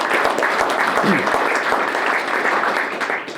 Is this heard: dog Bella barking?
no